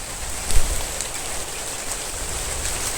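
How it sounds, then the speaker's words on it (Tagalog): Heavy rain pours down in a steady, dense hiss on surfaces nearby, with a brief louder patter near the start and no voices. "Biglang umulan ng malakas."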